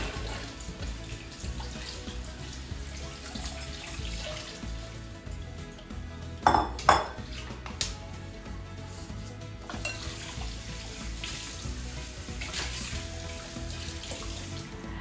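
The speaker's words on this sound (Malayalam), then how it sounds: "കുറച്ച് പാത്രങ്ങളൊക്കെ ഇതാ കഴുകാനായിട്ടുണ്ട്." Dishes are washed under a running kitchen tap, a steady close stream of water with a few sharp clinks of pots and utensils midway.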